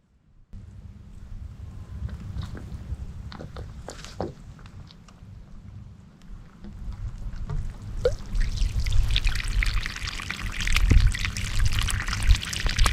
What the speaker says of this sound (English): we plan to water the earth so the water penetrates it and then softens it up a bit prior to digging